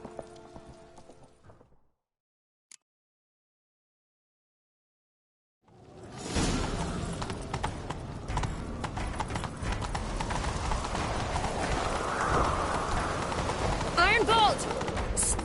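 Horse hooves gallop in The Witcher 3 video game, a rapid, driving clatter after a short silence, loud and continuous with a whooshing backdrop.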